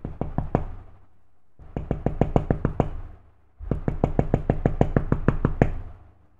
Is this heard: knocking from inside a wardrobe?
yes